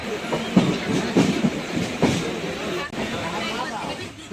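A moving Howrah-to-Purulia train rumbles steadily with rhythmic clatter of wheels over rail joints, close by, with people talking over it.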